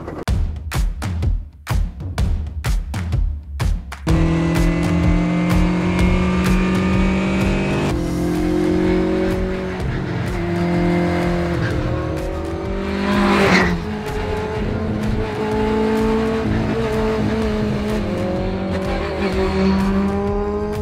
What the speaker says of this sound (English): This here is ignition, fuel pump on, ignition on, start.